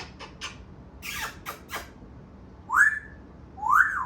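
An African grey parrot gives a few faint short chirps and clicks, then two loud rising whistles, each standing alone against a quiet room.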